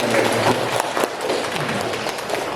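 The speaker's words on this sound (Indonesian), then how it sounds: "Tepuk tangan dulu teman-teman." Audience of students and guests applauding at a courtroom outreach event with a school for the blind, a dense steady patter of clapping from many hands throughout, with faint voices mixed in.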